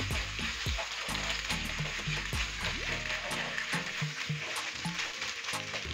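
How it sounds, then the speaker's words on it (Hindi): Boiled macaroni being stirred in a hot frying pan for spicy chicken tikka pasta, a continuous close sizzle punctuated by repeated scraping and clacking strokes of the spoon, with no voices. "मैकरोनी डालने के बाद अच्छे से हम इसको मिक्स कर देंगे।"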